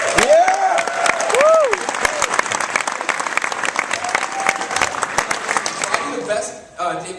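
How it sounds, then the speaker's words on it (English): A live show audience at PAX East breaks into loud, sustained applause with whoops and cheers for a guest, fading out at the end as a host speaks over it. "Let's give him a round of applause."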